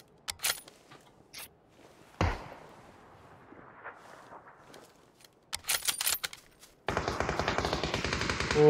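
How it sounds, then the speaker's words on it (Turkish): Gunfire in a PUBG firefight: isolated shots and short bursts crack out at first, then a sustained rapid automatic burst dominates the last seconds, loud and close. "Oha, çatışma güzel oldu onların orada girmesi birbirine."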